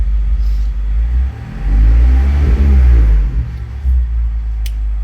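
A 2021 Mazda Miata ND engine idles with a low rumble, then gives a quick automatic throttle-blip rev that swells and settles back to idle, close up.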